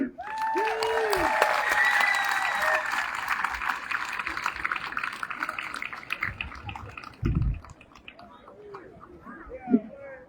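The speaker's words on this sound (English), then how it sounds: "Give Pop another round of applause for putting Vineland on the map" An outdoor crowd at a Vineland city ceremony applauds in a sustained wash of clapping that gradually thins out, with a voice over a loudspeaker and a few bird calls audible as it fades.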